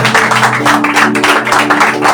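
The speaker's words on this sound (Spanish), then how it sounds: "Un fuerte aplauso." A church congregation breaks into loud applause, a dense, steady clatter of many hands that fills the room over a sustained musical tone.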